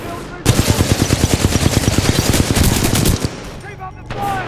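Rapid automatic gunfire from a firefight in the video game Titanfall 2, a loud dense burst of evenly spaced shots lasting about three seconds, then fading into scattered battle noise and distant effects.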